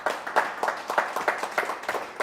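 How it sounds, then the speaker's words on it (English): A small audience at a real estate investors' meeting claps in a sparse, uneven rhythm of distinct hand claps, fairly quiet and close, with no talking over it. "let's give him a round of applause"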